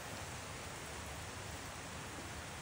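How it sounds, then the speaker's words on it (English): Rain falls at night during outdoor painting under UV lights, a steady even hiss of downpour with no breaks. "It's raining"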